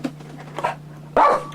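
A dog barks once, loud and close, after a stretch of quiet low-level sound with a steady hum and a faint earlier yip.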